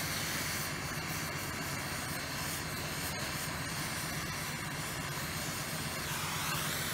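Oxyhydrogen torch flame heating copper for a brazed side joint, a steady, loud, broadband roaring hiss that runs unbroken and close for the whole stretch, with no talking.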